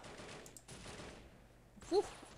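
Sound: sniper gunfire in the video game Soldiers: Heroes of World War 2

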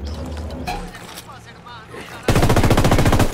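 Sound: gunfire from the video game Ghost Recon Wildlands

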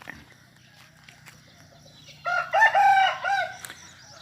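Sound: chickens clucking and crowing at a farm field edge

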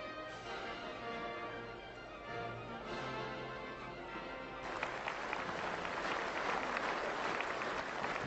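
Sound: crowd applause at 1982 May Day parade in Moscow

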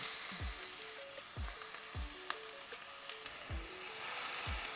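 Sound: onions frying in a pan with garlic and green chilies

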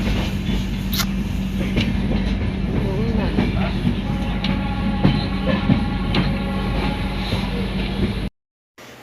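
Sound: train running

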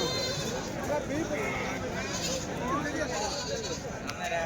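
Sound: goats bleating

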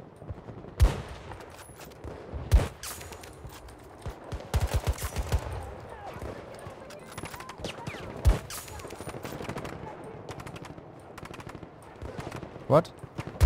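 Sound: gunfire in a video game

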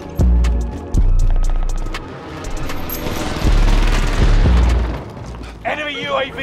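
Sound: gunfire in Call of Duty Warzone video game

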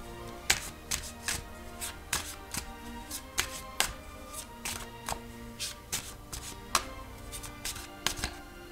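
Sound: drawing a tarot card from the deck

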